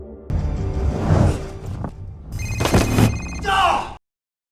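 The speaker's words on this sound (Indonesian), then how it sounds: "Tiba-tiba ponsel pun mulai berdering" A mobile phone rings with bright electronic tones in bursts, loud and close, mixed with whooshing sound effects.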